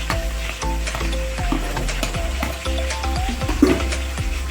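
Chopped tomato stirred into a frying pork curry with half-cooked potato, giving a close, steady sizzle broken by repeated scraping strokes of a spoon against the pan.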